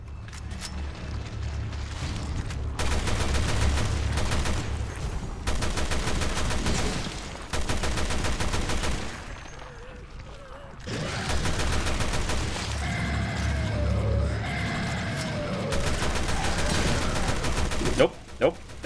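Weapons fire from Resident Evil Revelations 2 rattles in long sustained bursts with heavy booming impacts, continuous and loud over several seconds, broken by short gaps and mixed with game effects and creature noises.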